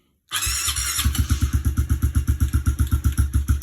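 A cold 2022 Honda CRF110 dirt bike engine, not started in a while, cranks and catches, then settles into a loud, rapid, rhythmic idle thumping close by, with no talking.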